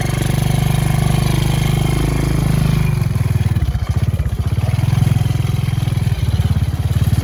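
A motorcycle engine runs on a rough trail toward a marsh, a loud, close, steady drone with clattering and rapid mechanical pulsing that grows busier partway through.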